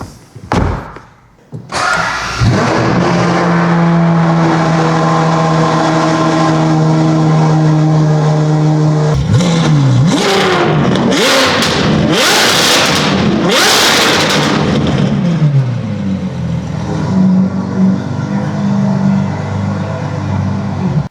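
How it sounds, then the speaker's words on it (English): Widebody Ferrari 812 GTS with a 6.5-litre V12 and a near-race exhaust tuned by HD Tuning, starting with a sharp bark and then idling loud and steady before hard rising revs with crackling blips, settling back to a burbling idle. "Featuring a complete to near race exhaust system tuned by HD Tuning, this car sounds like it looks"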